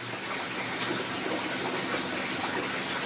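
Water gushes steadily as cane toad meat is rinsed under a running stream, a continuous broadband splashing wash, fairly quiet and with no talk.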